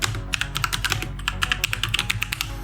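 Rapid keystrokes clatter on a computer keyboard while a command is entered in a terminal, a quick uneven run of close, crisp clicks over a low steady hum, with no voices.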